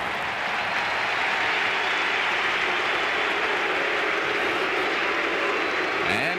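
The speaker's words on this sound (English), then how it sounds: "as you can tell by the crowd, it's time for Jose Cruz to take his cuts" A baseball stadium crowd at the Astros ballpark roars and applauds after a walk, a dense, sustained wash of cheering that stays loud and even throughout, heard from a distance.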